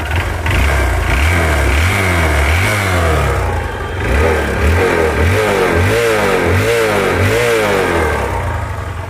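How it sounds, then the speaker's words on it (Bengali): A 2018 Hero Hunk 150cc motorcycle engine revs repeatedly up and down in loud, close bursts over a steady idle, with a rhythmic series of quick throttle blips through the silencer. "এবার অ্যাক্সেলেটার দিই"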